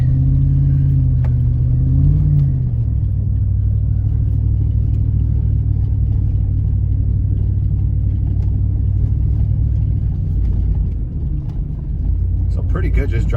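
A Chevrolet Tahoe on Venom Power Terra Hunter tires accelerates along a road with a thin layer of snow, heard from inside as a steady loud engine rumble and road drone that rises in pitch as speed builds.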